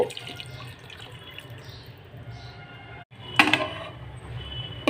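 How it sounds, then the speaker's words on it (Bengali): Spice paste water is poured over marinated tangra fish in a pan on a low-to-medium gas flame, giving a soft trickling, dripping liquid sound with a brief louder splash near the end. "এবার মশলা পেস্টের জলটা ওপর থেকে দিয়ে দেব।"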